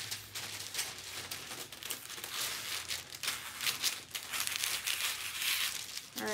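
Scissors cutting a traced shorts pattern piece out of paper for a vintage Simplicity 4310 sewing pattern, with continuous close crinkling and rustling of the sheet as it is handled and cut.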